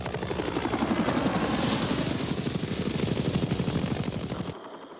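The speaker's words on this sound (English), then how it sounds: "For the Army, the basic infantry transport helicopter was the UH-1 Huey." A UH-1 Huey helicopter flies close by, its rotor thumping in a fast, steady pulse over a loud engine roar that swells and then cuts off abruptly near the end.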